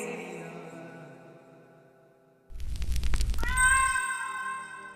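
A cat meows once, a drawn-out tonal cry, then a short rumble and clatter lead into a second bright, rising meow.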